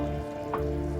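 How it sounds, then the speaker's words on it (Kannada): Fried coconut tipped into a simmering masala for Mangalore-style chicken sukka, a soft close sizzle with a brief stir or scrape in the middle, set against a faint steady hum. "ಈಗ ನಾವು ಫ್ರೈ ಮಾಡಿಟ್ಟಂತಹ ತೆಂಗಿನಕಾಯಿಯನ್ನು ಹಾಕುವ."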